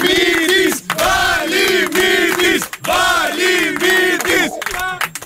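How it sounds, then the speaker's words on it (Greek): A big crowd of about a hundred radio listeners at a music awards event roars and cheers together in loud, sustained rising-and-falling shouts, near and continuous with brief dips. "Και θέλουν όλοι να σου ρίξουν ένα χειροκρότημα"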